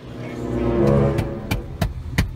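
A car engine revving up, rising to a loud roar and then easing off, followed by several sharp knocks or bangs close by, with no talk over it.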